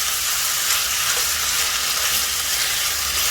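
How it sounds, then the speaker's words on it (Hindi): Chicken frying in a pan, a loud, continuous sizzle with bright crackling and spattering, close up and with no talk over it. "तो चिकन को हमें अच्छी तरीके से कुक कर लेना है वेजीज ऐड करने से पहले।"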